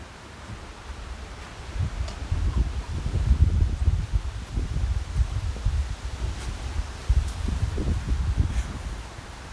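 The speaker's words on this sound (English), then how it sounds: "Wind's blowing." Wind blows outdoors on a cool evening beside a small fire, a steady low rumbling gusty roar buffeting the microphone, rising and falling in waves with faint rustling throughout and no talking.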